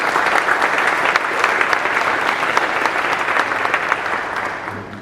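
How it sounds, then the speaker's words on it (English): An audience at an esports summit gives a big round of applause, a dense, loud and steady wash of many hands clapping that tapers slightly at the end. "Let's give them a big round of applause."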